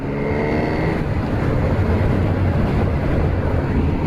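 A 2025 Honda Hornet 1000 motorcycle with a 1000cc engine taken from the 2017 Fireblade, its engine droning steadily and fairly loud with a low rumble, the pitch shifting slightly partway through.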